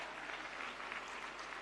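An audience applauding at a yoga event in India, a short burst of dense, steady clapping from a crowd, heard from a distance and fairly faint.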